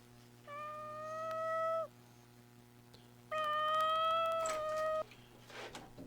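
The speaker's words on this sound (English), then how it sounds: "There was a cat in here." Two long, clear cat meows, fairly close and distinct, separated by a pause, with faint background hum and a little clatter at the end.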